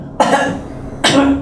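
Two short nervous coughs, close and isolated, spaced about a second apart, each a brief muffled burst.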